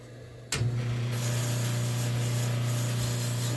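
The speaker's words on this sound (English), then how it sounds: "Some sandpaper." Sandpaper rubs steadily against a wooden shotgun stock on a sanding table during a double-barrel shotgun restoration, a continuous close scratchy hiss that starts abruptly and runs unbroken with no talking.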